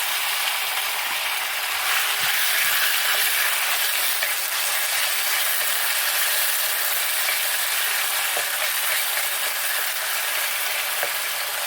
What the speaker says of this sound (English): Goes into a very hot oil, sesame seed oil if you can, or otherwise a good sort of sunflower oil will do just the same. And all it does is just stir fry